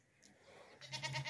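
A pregnant goat with two teeth lets out a short, close bleat, rising into a wavering cry at the end of a brief moment of quiet.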